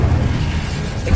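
A fire spell, Incendio, cast in Hogwarts Legacy gives a short, loud, low rumbling burst that fills the full second with a dull roar.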